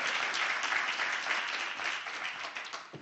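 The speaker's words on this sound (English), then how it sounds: "Please give a warm round of applause to Joe." Sustained audience applause for a presenter at an agricultural showcase, a dense wash of many hands clapping at steady loudness that tapers slightly near the end.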